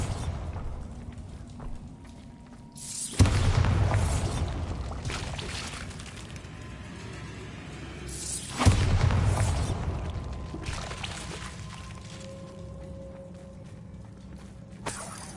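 Two heavy booms from a Bombarda blast spell in the Hogwarts Legacy video game, each loud and sudden with a rumbling tail, several seconds apart amid faint ambient background.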